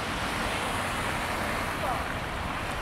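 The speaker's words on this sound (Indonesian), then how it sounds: "Ini hujannya sangat deras banget" Heavy rain pouring down outdoors on a street, a dense, unbroken hiss of falling water filling the whole stretch at steady loudness.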